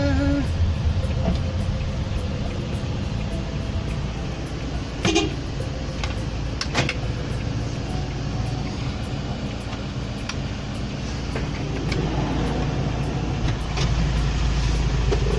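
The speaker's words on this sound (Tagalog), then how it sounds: "Pagkita natin ang traffic dito." Road traffic rumbles steadily around a passenger shuttle in slow, congested driving, a constant engine and tire drone with a few sharp clicks and brief passing swells, no talk.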